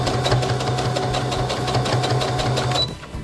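Sewing machine stitching a simple seam on a fabric toy mushroom, a fast steady whirring chatter close by that runs for about three seconds and then stops.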